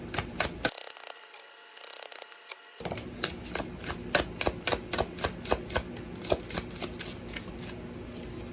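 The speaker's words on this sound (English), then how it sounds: "Let me get some more cards here." Tarot cards are shuffled close up in a run of crisp riffling flutters and taps, with a short pause near the start before steady rhythmic shuffling resumes.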